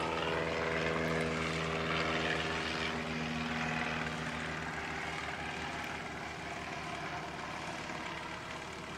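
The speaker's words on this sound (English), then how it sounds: "Just the arrival of the behemoth, mate. Another landing today." A large airliner lands at Christchurch Airport with a steady, loud engine roar that stays close and then eases slightly, heard alone with no talk.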